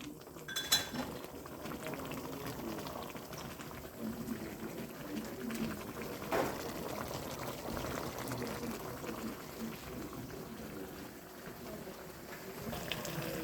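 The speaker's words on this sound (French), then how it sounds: "Il faut laisser mijoter." Homemade Chinese fried rice mixture simmering in a pan, a soft steady bubbling and sizzle with occasional clinks of a utensil against the pan, moderately faint and continuous throughout.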